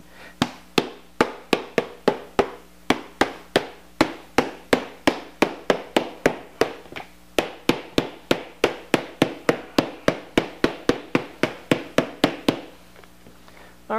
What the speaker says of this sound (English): hit this with my trusty hammer.